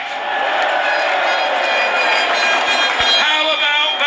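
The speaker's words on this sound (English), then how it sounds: "A crowd of Brexiteers cheer Tony Blair." A dense crowd of Brexiteers roars and cheers for Tony Blair, a loud continuous wash of voices that stays steady throughout, with a few individual shouts rising toward the end.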